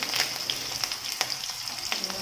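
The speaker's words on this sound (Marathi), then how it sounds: "आता पहिली फोडणी घातलेली आहे आणि ह्या ही जरा मिरची चांगली भाजली की" Green chillies fry in hot tempering oil for Maharashtrian sabudana khichdi, a close, continuous crackling sizzle with a few sharper pops and spoon scrapes.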